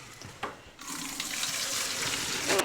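Water runs steadily from a tap into a bowl as vintage doll clothes are rinsed, a broad splashing rush that starts after a short burst and continues close and loud with occasional sloshing.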